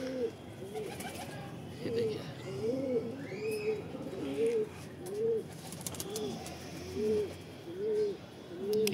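Pet flying pigeons perched together coo in a steady, repeating rhythm, about one call per second, close and moderately loud over a noisy background, with a brief spoken word near the start.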